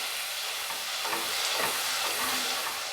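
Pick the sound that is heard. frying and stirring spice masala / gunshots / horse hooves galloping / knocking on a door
frying and stirring spice masala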